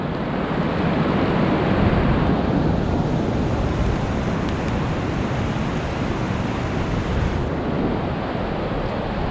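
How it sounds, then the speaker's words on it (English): Ocean surf rolls in on the Oregon coast near Cape Lookout, where a small creek runs into the sea. A loud, continuous roar of waves and rushing water is mixed with wind buffeting the microphone, and no one speaks. "Here we got a little creek entering the ocean."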